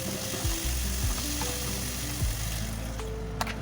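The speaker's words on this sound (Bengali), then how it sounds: "এবার নেড়ে চেড়ে সুন্দরভাবে তৈরি করছি।" Aar fish curry stirred in a hot pan, steady close sizzling and frying with a few scraping strokes of a spatula, continuous and moderately loud, no talk.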